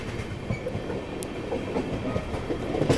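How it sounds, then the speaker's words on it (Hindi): Mizoram Rajdhani express rolling past a station, with rhythmic clickety-clack of wheels over rail joints and a steady rumble, moderately loud and continuous. "सामने से कोई तो ट्रेन आ रही है और काफ़ी स्लो रफ्तार में हम अलीगढ़ को स्किप करेंगे"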